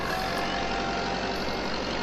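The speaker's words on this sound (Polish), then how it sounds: "ten ciągnik tak pod górkę ledwo, ledwie, ledwie, ledwie ciągnie" A tractor engine in Farming Simulator 22 drones steadily under load as it labours uphill pulling a trailer, a constant dense rumble with no talk over it.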